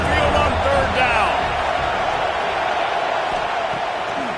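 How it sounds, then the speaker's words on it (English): Stadium crowd noise at Saban Field in an NCAA football video game, with the Alabama home crowd roaring on third down: a loud, continuous roar with whistles and shouts early on that holds steady for the whole stretch. "The Tide crowd rolling noise down onto Saban Field on third down."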